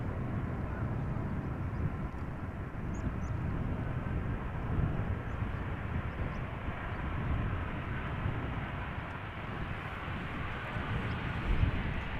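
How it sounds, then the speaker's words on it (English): An Air Europa Boeing 737-800 arriving from Madrid lands at Amsterdam Schiphol in a crosswind, a continuous broad jet roar that holds steady and fairly loud throughout. "Our next airplane is this Boeing 737-800 Air Europa flight 1091, arriving from Madrid."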